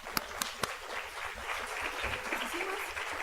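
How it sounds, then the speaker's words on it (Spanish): Audience applause at a book presentation in a university medical faculty hall: a few sharp, isolated claps open, then a steady, moderate round of many hands clapping continues to the end. "muchísimas gracias y nuevamente un aplauso."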